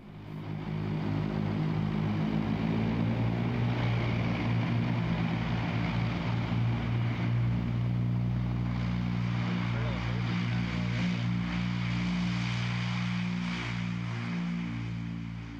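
A propeller aircraft drones overhead in cool, humid air, a loud sustained engine roar with a deep steady hum that holds throughout without fading, and no talk.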